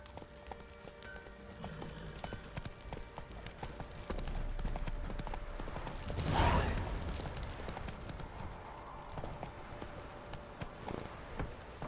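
Steady clip-clop of horse hooves under a rider in The Witcher 3, a continuous moderate trotting rhythm with a brief louder whoosh midway and faint ambient background.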